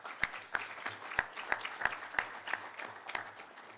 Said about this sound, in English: I would ask you to give yourselves a large clap